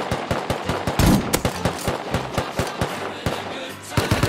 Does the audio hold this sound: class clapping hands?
no